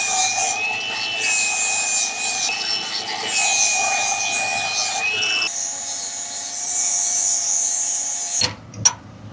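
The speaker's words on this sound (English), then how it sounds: "I'm going to weld that 1/4 inch cap and then do the inside." Welding a quarter-inch steel cap onto the new rear hanger of a Southland dump trailer makes a steady, close crackling buzz that runs for about eight seconds, then cuts off into a brief clank and quiet.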